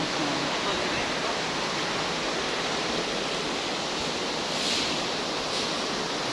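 Steady broadband rushing of a river's flowing water near a hot spring, continuous and fairly loud with no clear voices over it.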